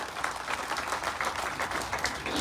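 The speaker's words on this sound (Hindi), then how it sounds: "उनकी एक बार और जोरदार ताली बजाकर स्वागत करो।" A crowd at a rally applauds steadily to welcome a speaker, a dense wash of clapping that holds at an even, moderate level throughout without any voices over it.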